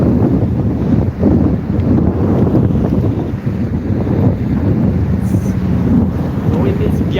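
Strong wind gusts buffet the microphone on an open coastal road near salt water during a long-distance bicycle ride, a loud continuous rumble with surging gusts and no clear speech.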